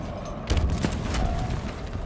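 Rapid gunfire bursts from a Halo Infinite firefight, loud and close, with overlapping shots and booming impacts running continuously for about two seconds.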